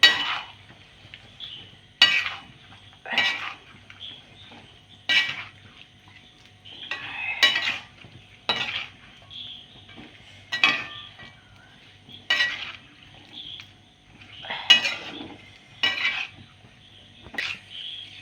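A spoon stirs nutmeg pickle with turmeric and salt in a cooking pan, making roughly a dozen distinct scraping, clinking strokes at a steady rhythm. The strokes are close and moderately loud, with no talk.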